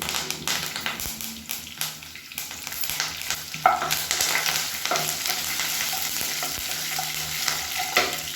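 Mustard seeds, urad dal and cumin crackle and sizzle in hot oil in a home kitchen, a steady close frying hiss dotted with sharp pops and occasional stirring clicks.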